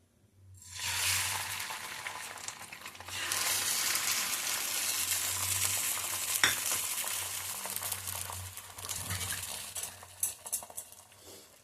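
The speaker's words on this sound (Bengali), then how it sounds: "ডিমটাকে এবার ভেজে নেবো ভুজিয়া করে।" Beaten egg fries as bhujia in a very hot pan, a soft continuous sizzle with spatula stirring and occasional clinks of utensil against metal, fairly faint and without talk.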